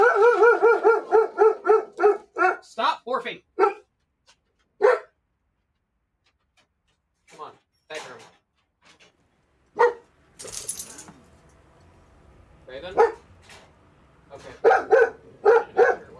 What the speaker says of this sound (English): Dogs are going ballistic.